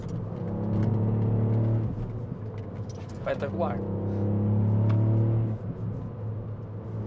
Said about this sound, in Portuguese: E o barulho do carro está engraçado. Tem um barulho assim grossinho.